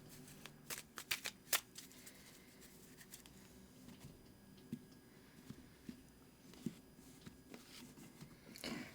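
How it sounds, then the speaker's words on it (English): Tarot cards being shuffled by hand in a quiet room, with crisp riffling bursts early on followed by softer, scattered card slaps and patters spread across the rest, close and fairly faint. "I'm going to go ahead and shuffle now"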